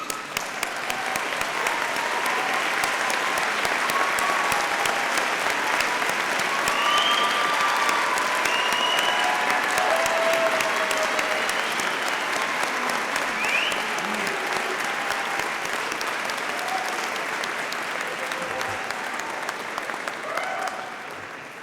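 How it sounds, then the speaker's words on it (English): A large audience at a Birmingham City University graduation ceremony gives sustained, loud applause, a dense, even roar of clapping that holds for over twenty seconds before easing slightly, with a few faint voices in the crowd. "join me in giving them a well-deserved round of applause"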